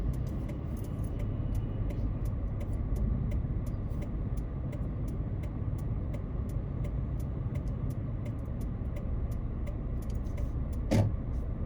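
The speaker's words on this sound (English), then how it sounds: "We can get rid of that blinker noise." Steady car interior rumble with a regular, evenly spaced ticking of a turn signal blinker running throughout.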